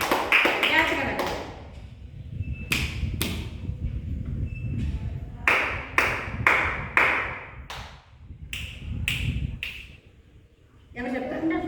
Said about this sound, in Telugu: Clap for this boy.